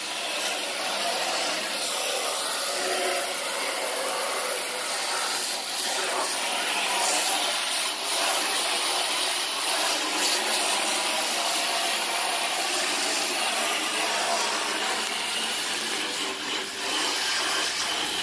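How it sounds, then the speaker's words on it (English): Hose spray washing river scum off an aluminum pontoon boat, a steady broadband hiss of water running continuously and close with slight surges, no talk. "I'm just going to hose it off."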